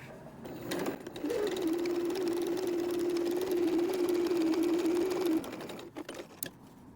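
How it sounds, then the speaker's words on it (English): A sewing machine stitches close to the edge of a Velcro wallet in one continuous steady whirring run of about four seconds, with faint handling noise before and after and no speech. "we're going to sew really close to the edge"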